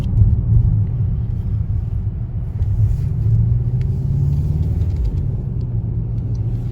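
A Mercedes AMG GT 4 engine accelerates hard in a deep, steady rumbling drone that stays loud and close throughout, with no talking.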